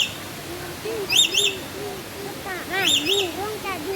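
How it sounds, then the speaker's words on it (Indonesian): Bright, repeated parrot calls from a lory along a riverside forest walk at Cimory, sharp squawking notes in short bursts over distant murmuring voices and outdoor ambience. "Yang pertama ditemuin burung nuri."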